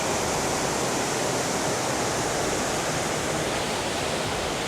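Small, clear mountain stream in Leukerbad, Switzerland, rushing steadily downhill; a dense, even broadband wash of running water, close and continuous with no breaks, no voices over it.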